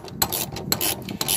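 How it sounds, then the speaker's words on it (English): A socket wrench loosens the axle nut on an Erde trailer hub, producing close, quick ratcheting clicks in three short bursts. "Now we can find the axle nut in there. Once again, loosen that off with your socket."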